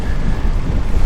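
Strong wind buffets a microphone outdoors on a very windy day, a loud, rumbling, continuous roar with no voices.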